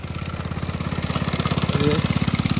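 A small spraying-machine engine runs steadily nearby in a mango orchard with a fast, even pulsing throb, holding a constant idle-like speed throughout.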